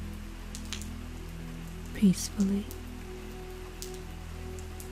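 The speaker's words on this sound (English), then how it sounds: "as the rain falls to the wet ground, splashes on the wet porch, splatters on the roof" Steady rain falls on wet ground and splashes on a porch, a continuous soft patter beneath a calm, quiet voice speaking.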